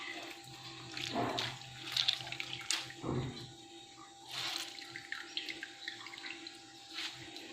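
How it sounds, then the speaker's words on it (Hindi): Soaked potatoes are squeezed by hand to wring out water for aloo chapli kebabs, giving faint wet squelches, drips and splashes in irregular bursts, close by and quiet. "पहले आप आलूओं को निकालेंगे पानी से, इसका पानी अच्छी तरह निकाल लेंगे ऐसे करके हाथों की मदद से।"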